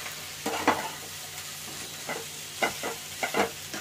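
Potatoes with amchur and chaat masala stirred in a pan, a few scraping strokes in separate bursts over a faint sizzle, close and moderately quiet with no talking.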